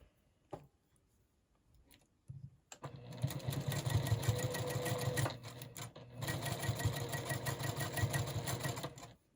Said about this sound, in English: this is the more traditional way of sewing it